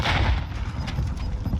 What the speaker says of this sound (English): Great grenade throw.